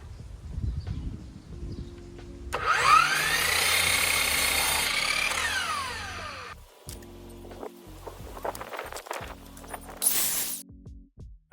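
A power saw cuts wooden door trim boards to length during an old house renovation: one steady, loud whining cut lasting about four seconds, framed by quieter handling noises and a short final burst.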